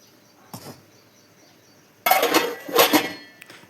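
Boiled chickpeas are stirred in a metal pan, making a brief clink at first and then a louder run of scraping and clattering spoon-on-pan strokes near the end. No one talks.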